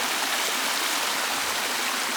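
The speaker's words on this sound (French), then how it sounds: "Et voilà la source d'eau chaude qui part d'ici" Hot spring water in the eastern Pyrenees running in a steady, close stream toward a waterfall, a continuous bright splashing babble with no voices.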